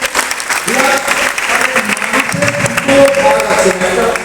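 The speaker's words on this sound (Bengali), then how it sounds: "রিয়াজ জন্য একটা হাততালি হবে" Classroom applause for a student named Riyaz at a government ITI session in Falta, steady clapping from a group of students filling the whole stretch, with some voices mixed in.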